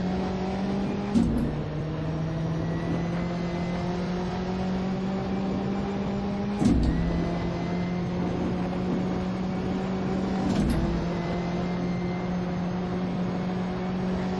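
Race car engine in the Assetto Corsa video game on the 1960s Longford Circuit, a steady loud drone held through traffic, with three sharp upshifts marking rises in pitch up to sixth gear.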